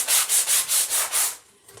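Sandpaper rubbing back and forth across the top of a wooden farmhouse door hanger, about six steady close strokes in a quick rhythm, then a pause with faint handling.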